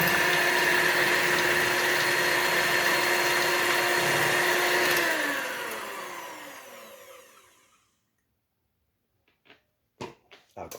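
An electric mixer whips pumpkin pie filling with a loud, close, steady whirring hum whose pitch drops as the motor is switched off and winds down over a few seconds, followed by silence and a few light knocks of the beaters.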